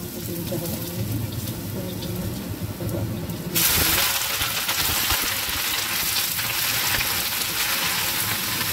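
Garlic tossed into hot oil in a pan bursts into a loud, steady sizzle partway through, replacing a quieter stretch of low kitchen noise and faint voice.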